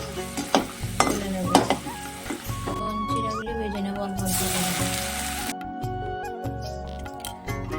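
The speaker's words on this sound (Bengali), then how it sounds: "তেলে ঘিয়ে চিরাগুলি ভাজছি" Flattened rice (chira) frying in a mix of oil and ghee, a steady sizzle with occasional stirring clinks and scrapes of a spoon in the pan, close and continuous, with a voice talking over it.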